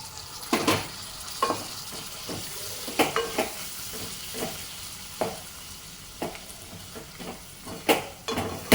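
A spoon stirs chopped tomatoes into a wild bitter gourd curry in a pan, giving repeated scraping strokes over a steady low sizzle with occasional clinks on the pan, close and moderately loud, no talking.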